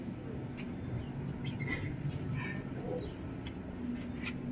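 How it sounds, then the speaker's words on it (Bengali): Pigeons coo softly inside a pigeon house, with a few brief chirping calls over a steady, noisy background. "পায়রার ঘরে ঢুকেছি।"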